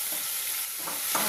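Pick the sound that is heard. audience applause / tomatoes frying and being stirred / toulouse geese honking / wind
tomatoes frying and being stirred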